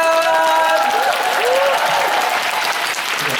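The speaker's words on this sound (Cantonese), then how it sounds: "再次俾掌聲 ，AK 同 Ian。" Loud, dense applause from a fan-meet crowd for Ian Chan and AK, sustained throughout with a few whistles and cheers rising over the clapping.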